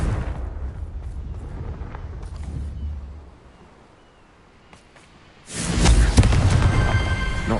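A Confringo fire spell in a Harry Potter video game, a rumbling blast that fades to near quiet before a second loud, bright explosion bursts in and sustains to the end.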